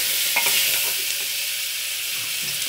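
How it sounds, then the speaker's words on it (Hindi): Diced sweet pumpkin fries in a hot pan with ground coriander while being stirred: a steady, close sizzling hiss with the scrape and clatter of a spoon moving the pieces around, and no voices. "अब इसके बाद हम इसमें कद्दू डालते हैं और इसको अच्छे से फ्राई करते हैं"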